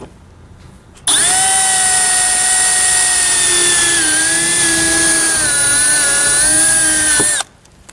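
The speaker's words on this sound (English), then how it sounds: "we're going to use a drill and a small 1/8 inch bit to just drill out the center of it." A power drill with a small 1/8 inch bit whines steadily at high speed for several seconds, drilling out rivets, starting and stopping abruptly, with no talking.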